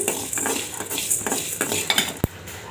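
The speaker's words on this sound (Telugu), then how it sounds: "ముందు గ్యాస్ ఆన్ చేసుకొని ఒక బండి పెట్టుకున్నాము వీటిని కలర్ మారే వరకు వేయించుకోండి" Spices sizzle gently as a utensil scrapes and clinks against a pan on a gas stove, with light steady frying under repeated metallic stirring and one sharp clack near the end.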